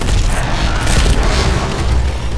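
Arc grenade detonating in the video game Titanfall, a loud booming blast followed by rumbling crackle and bursts throughout, heard close with no speech.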